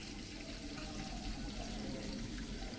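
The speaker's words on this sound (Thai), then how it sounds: "ปล่อยน้ำเข้าเหมือนเดิม" Water runs steadily into an earthen pond raised for Russian giant catfish, a continuous broadband rushing and splashing flow heard close up and alone, with no talking.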